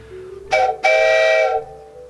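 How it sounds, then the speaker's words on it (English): A wooden train whistle blows two blasts, a short toot then a longer chord-like tone, loud and close. "A wooden train whistle typically implies multiple tones and gives that telltale sign of a choo-choo coming into"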